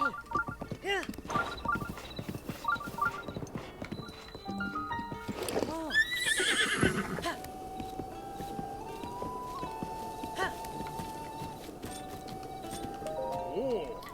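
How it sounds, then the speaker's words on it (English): Hooves clip-clopping in a quick rhythm with a horse snorting and whinnying in The Legend of Zelda: Breath of the Wild, over game-like tones and music. "We'll take this blue horse right up to the stable"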